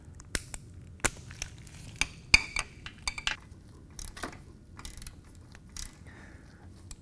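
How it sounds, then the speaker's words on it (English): A ratchet with a 3-inch extension and 5/8-inch socket loosens a transmission drain plug, giving a close series of sharp, irregular metallic clicks and snaps with short pauses between them. "take your ratchet and your 3-inch extension and your 5/8" socket and remove it"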